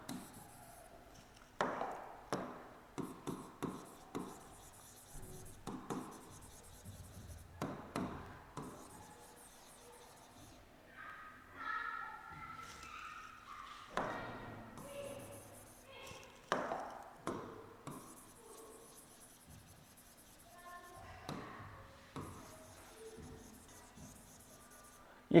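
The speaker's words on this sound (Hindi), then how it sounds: "मैं लिख देता हूं" Marker or chalk writing on a classroom board during a chemistry lesson, irregular bursts of scratchy strokes and taps with brief gaps, close and moderate, faint voice in the background at times.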